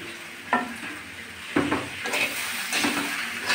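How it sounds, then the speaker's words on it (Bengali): Slit green chillies go into a pan of frying mixed vegetables, with a steady close sizzle broken by a few sharp scrapes and clacks of stirring. "চিড়ে রাখা কাঁচা লঙ্কাগুলো দিয়ে দিচ্ছি।"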